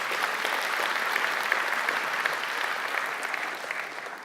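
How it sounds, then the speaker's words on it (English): A conference audience at a developer event gives a keynote speaker a big round of applause: dense, even clapping from a large hall that stays full and steady, then begins to thin toward the end. "Give him a big round of applause."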